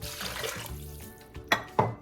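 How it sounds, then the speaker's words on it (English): Water pours into a cooking pot for New Year's Hoppin' John, a short splashing gush followed by two sharp knocks of metal, close up with no talking. "you're gonna go ahead and add 4 cups of water to the pot"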